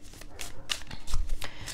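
A tarot deck shuffled by hand during a reading, a run of soft rhythmic papery swishes close up, steady and without speech.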